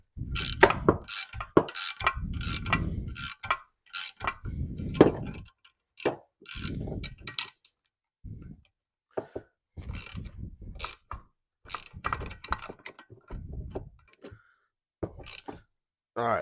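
A pulley installer tool is cranked to press the power steering pump pulley onto its shaft on a 1977 Ford F-150 with a 460 V8, giving repeated close bursts of sharp ratcheting clicks separated by short pauses.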